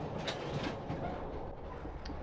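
Train carriages rolling on tracks in the video game The Train, a steady low rumble with faint rhythmic clatter heard from inside the car, moderately loud and continuous with no voices.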